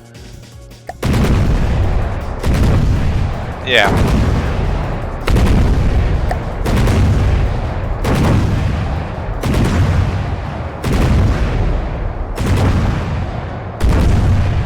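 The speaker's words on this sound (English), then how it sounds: "which fires this cannon at the target" A cannon in the From the Depths naval combat game fires at a target in a steady run of heavy, booming shots about once a second, each loud and close with a rumbling tail, and a voice speaks briefly once.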